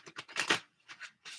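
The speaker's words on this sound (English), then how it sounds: "Weird little shuffle there" A Mystic Mondays tarot deck is shuffled in a few short, soft, crisp riffling bursts with brief pauses between them, close and quiet.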